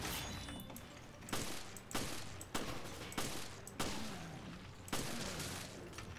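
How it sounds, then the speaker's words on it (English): Gunfire in the video game Resident Evil Revelations: loud, close shots roughly once a second in an irregular rhythm, each a sharp broadband crack with a short tail, over a low game background. "I know, you're just shooting this guy, aren't you?"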